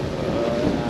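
A sailboat motors against a one-to-one-and-a-half-knot current, its engine giving a brief, steady low rumble with wind noise over it.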